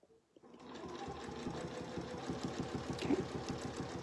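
A sewing machine stitches a seam across a quilt, a steady, rapid mechanical chatter that starts after a brief pause and runs continuously, close and alone with no talking.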